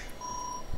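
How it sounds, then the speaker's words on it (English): A single steady electronic alarm beep held for about half a second, clear but not loud, over faint background room noise. "Oops, that's my alarm."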